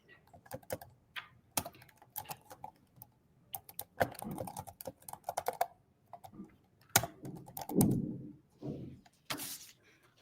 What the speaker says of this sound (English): I'll quickly type it in.